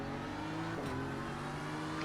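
GT3 race car in a racing video game passing close on the left, a steady loud engine drone with a brief rising sweep as it draws alongside, over continuous in-game engine noise.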